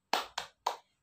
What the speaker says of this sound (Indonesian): mari perhatikan tepuk gembira yang ditampilkan oleh Ibu ya